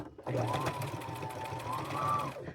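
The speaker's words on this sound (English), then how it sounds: "I'm just going to sew on down." A sewing machine stitches a stem applique onto bib overalls, its motor whirring steadily at close range for about two seconds with a rapid needle rattle, starting abruptly and slowing at the end.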